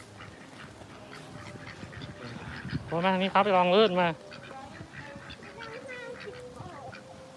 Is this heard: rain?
no